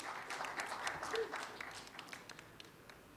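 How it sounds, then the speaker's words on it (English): Audience at a tax and insolvency panel discussion giving a round of applause, a fairly faint spread of claps that swells briefly and then thins out to scattered individual claps. "So please, round of applause"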